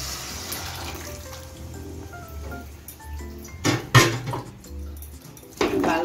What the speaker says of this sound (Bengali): আমি যে জলে লাউটা সিদ্ধ করেছি সেই জল সমেত দিয়ে দিচ্ছি